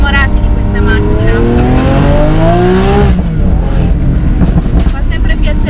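A Lamborghini Aventador S downshifts and revs hard, its loud engine climbing in pitch over about three seconds before dropping away into rough, throbbing idle and road noise, all very close.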